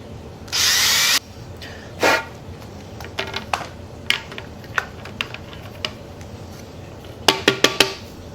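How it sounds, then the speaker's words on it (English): A power drill bores a hole in a pannier in one short loud burst, followed by scattered clicks, taps and handling of plastic parts and tools. "we're going to drill a hole here and we'll run our string through"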